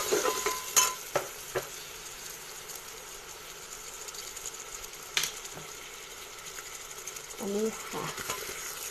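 Tomato and mutton with a little garlic paste fry in a pan for a home-style goat curry, a faint steady sizzle with occasional soft clicks and stirring knocks, and a voice speaks briefly.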